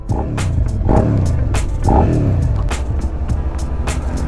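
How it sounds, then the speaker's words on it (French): A Suzuki SV 650 twin, 2018–2019 model with an aftermarket exhaust, rumbles and revs in a few rising bursts, loud and close with a throaty pulsing tone. "Par contre, c'est plus chantant avec le pot."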